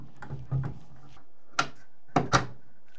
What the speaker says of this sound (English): We can put the door back on the hinges.